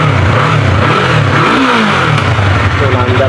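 Yamaha YZF-R3 motorcycle engine running and revving after a repair, a loud steady mid-pitched drone that dips and rises again in pitch, with a voice talking over it.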